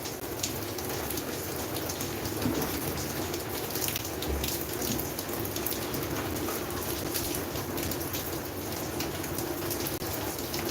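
Steady rain falls on an open farm field, a continuous even hiss of drops close by with no talking, a few faint bird calls mixed in.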